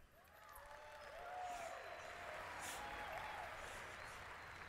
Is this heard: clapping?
yes